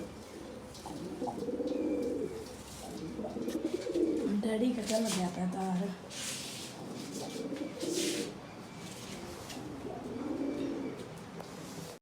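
Pigeons coo in repeated soft, throaty phrases nearby while people talk over them.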